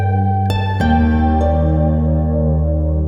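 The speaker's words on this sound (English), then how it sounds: "And I'm gonna plug the full range of my harp into this reverb," A full-range harp played through a reverb pedal: a couple of plucked notes ring out in a clear, steady sustained chord that blooms with lingering reverberant wash, alone and close.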